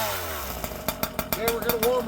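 A two-stroke chainsaw fitted with an expansion pipe, started on fast idle: a few sharp pull-start bursts crackle and then catch into a rising, buzzy engine note, close and loud, over a brief stretch.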